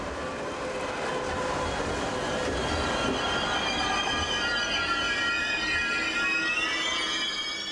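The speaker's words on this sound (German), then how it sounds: "Einfahrt hat ein Zug nach Dresden." A Reichsbahn-era train bound for Dresden rolls into a Berlin station, its wheels squealing in long, high-pitched wails over a steady rumbling roll, loud and close throughout.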